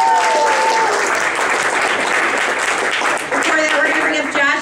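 Comedy club audience claps and cheers for a comedian, a loud sustained wave of applause with whoops, while a host's amplified voice carries over it.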